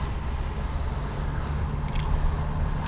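Keys jangle as they are handed over, a bright metallic rattle that builds near the end over a low hum of traffic nearby.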